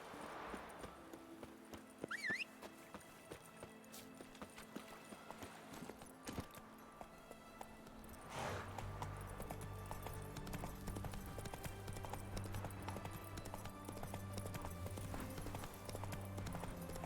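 Roach, the horse from The Witcher 3 game, clip-clops along with hoofbeats and a brief whinny, joined midway by a low sustained musical drone; quiet overall and without talk.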